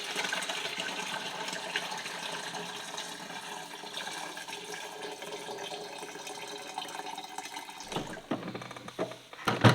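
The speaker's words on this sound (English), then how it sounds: "we're gonna pour this filtered water in here" Filtered water pours steadily into the tank of a Sandia 50-7000 carpet extractor, a continuous splashing rush that ends with a few louder knocks and clunks.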